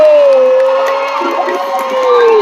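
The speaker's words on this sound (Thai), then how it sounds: "ดูกองเชียร์ดูกองเชียร์ บรรยากาศกองเชียร์ครับ" Fans cheer loudly and steadily at an under-21 world championship beach volleyball match between Brazil and France, a dense roar of shouts with a commentator talking over it.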